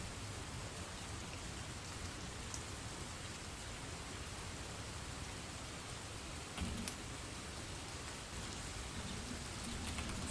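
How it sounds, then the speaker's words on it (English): Steady rain ambience, a continuous soft hiss of falling rain with scattered drop sounds, played as background behind a game; no distinct fireplace crackle stands out and no one talks. "Should I leave the rain and the fireplace sounds though?"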